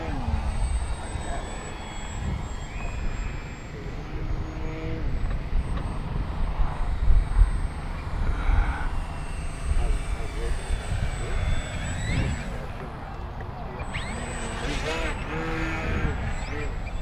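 A small propeller engine of an FMS Victory RC model airplane whines and drones steadily overhead for a long stretch at an RC competition, pitch rising and falling as it maneuvers, with faint voices in the background.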